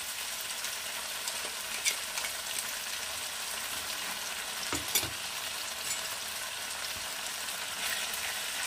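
A spice paste for fish curry with drumstick and bottle gourd fries in a pan, giving a soft, continuous sizzle with scraping stir strokes and a couple of sharper clanks near the start and middle.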